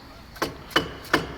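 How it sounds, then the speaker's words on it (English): Three sharp metallic hammer taps on a stuck pulley on a Mazda RX-7 FC3S, evenly spaced about a third of a second apart, close and fairly quiet. "It's just a little stuck, so we'll come here, grab my trusty hammer."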